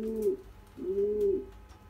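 Racing pigeons cooing, two soft drawn-out coos in a row, close and clear against a quiet loft background with no talk.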